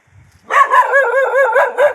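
A dog barks close by in a quick, loud run of about six rhythmic, slightly howling barks after a brief quiet moment.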